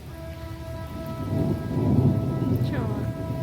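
Sudden heavy rain pours down steadily at a Durga Puja pandal, a dense close wash of drops under a low rumble of thunder that swells toward the middle.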